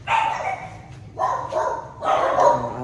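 A dog barks three times in quick, separate bursts, loud and close, at a home with a pool, with a low background hum between the barks.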